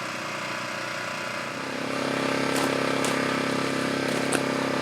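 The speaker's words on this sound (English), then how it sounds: "The generator is sitting behind me about 20 feet from the camera. Gives you an idea of the audio level of the quiet generator." A Harbor Freight Predator 1400 watt quiet generator runs steadily about 20 feet off, a continuous even engine hum that swells slightly a couple of seconds in, with a few faint clicks over the drone.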